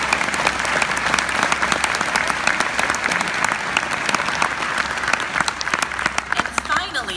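Steady, dense applause from a large crowd, loud and continuous throughout with no break.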